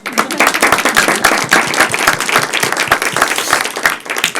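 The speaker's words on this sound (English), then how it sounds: "you deserve a huge round of applause" Audience applause at the close of a sustainable finance conference session: dense, sustained clapping from a sizeable crowd fills the room steadily throughout, loud and close.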